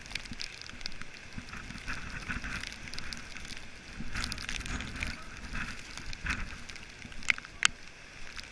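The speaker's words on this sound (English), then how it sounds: "Oh, that rain stings, doesn't it?" Steady rain hisses and patters outdoors on a beach in Turkey during a storm, with some wind buffeting the microphone, and a couple of sharper pops near the end.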